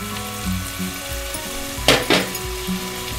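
Veg pulao being mixed in a pan with a spatula: a steady sizzle runs throughout, broken by two sharp stirring scrapes near the middle, close and fairly loud, with no talking.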